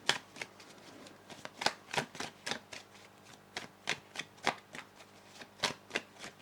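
Tarot cards are shuffled close up in a steady run of crisp riffling bursts, roughly three per second, with a few softer slides between them and no voices.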